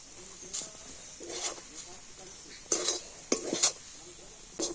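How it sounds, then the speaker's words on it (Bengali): Semolina dough being stirred in a pan over low heat, a few scraping, clattering strokes of a utensil against the pan at close range, spaced irregularly, with a faint sizzle underneath and some low talk. "তো দেখুন এইভাবে একটু হালকা জাল দিয়ে নাড়াচাড়া করে তো সুন্দর একটা ডো তৈরি করে নেব।"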